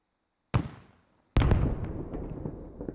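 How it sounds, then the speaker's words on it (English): A self-propelled gun firing on a BTR in the Squad video game: two sharp, heavy booms, the second louder and trailing into a long rumbling echo, with no talk. "SPG just took a shot at the BTR and it hit"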